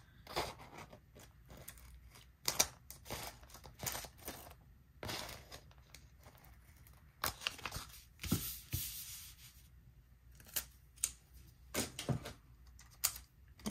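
Scissors snip and crunch repeatedly at close range, with sharp bursts of cutting and small rustles, loud and irregular, no talking.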